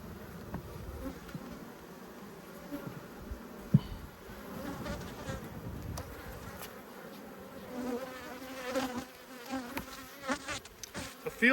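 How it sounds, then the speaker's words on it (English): Honey bees buzz around an open hive during an inspection, a soft continuous drone with individual bees swelling close past the microphone now and then, fairly quiet throughout. "the temperament on these bees are pretty good as well"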